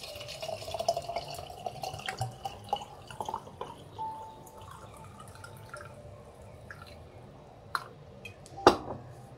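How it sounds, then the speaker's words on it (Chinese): Rice wine trickles and drips into a jar of plums to make homemade plum wine, a soft liquid pour with scattered glassy clinks, ending in a louder knock near the end. "我们现在把米酒倒进来"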